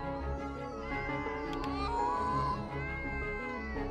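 Cats meow several times in an Indonesian apocalypse prophecy video game, the calls rising over a steady, dense layer of game background sound.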